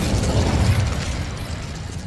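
An Incendio fire spell cast in Hogwarts Legacy, a loud roaring burst of crackling, whooshing flame that starts strong and tapers slightly over two seconds.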